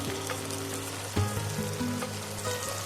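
Kadai chicken frying in a pan, a steady soft sizzle with a low hum underneath and a few faint clinks of stirring, heard alone with no voices.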